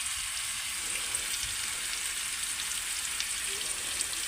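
Cumin seeds and homemade chili powder sizzle steadily in hot oil in a pan as they are stirred, a continuous crackling fry heard close up without any talk.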